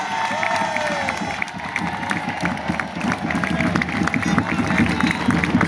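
Festive crowd at the Sant Sebastià 2016 celebration in Matadepera clapping steadily and loudly in a dense, continuous rhythm, close by, with cheers and voices mixed in throughout.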